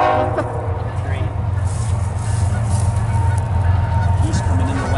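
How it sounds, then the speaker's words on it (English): Geese honking as they glide in to land in spring wildlife country, scattered calls over a steady low rumble with a voice talking nearby. "Geese coming in the land."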